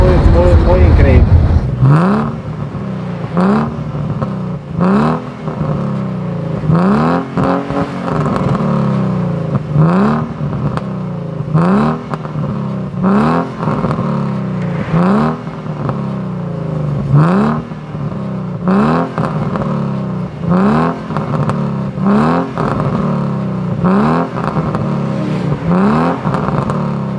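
BMW E46 330 engine revving repeatedly as the accelerator is pressed, a loud rhythmic series of rising and falling rev swells close by, with someone talking over much of it.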